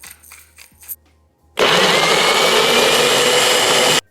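A blender whirs at full power for about two and a half seconds, loud and steady, blending a salsa of honey, vinegar, cilantro and pepper, after a few quiet clinks of setup and then cutting off abruptly.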